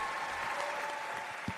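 Applause from a crowd honoring the 84 graduating seniors of the Chester High School class of 2026, a steady dense wash of clapping throughout, moderately loud and continuous with no voices standing out.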